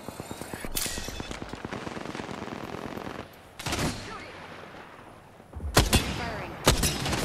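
Automatic weapon fire in Apex Legends, a rapid rhythmic burst of close shots for about three seconds, then a pause and several more loud sharp bursts near the end.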